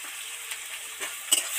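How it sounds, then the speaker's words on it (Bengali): Jackfruit and prawn curry fries in a pan with a thin, even hiss, broken by two or three soft spatula scrapes near the end of the brief moment. "ভালো করে নেড়ে চেড়ে ঢাকা দিয়ে দেব।"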